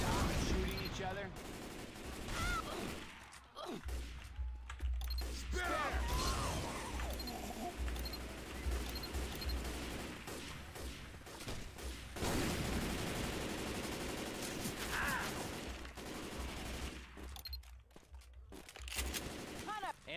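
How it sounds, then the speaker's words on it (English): Video game firefight with players shooting at each other, bursts of rapid gunfire and fusillades filling most of the stretch with brief lulls, while people talk over it. "Can you stop shooting each other?"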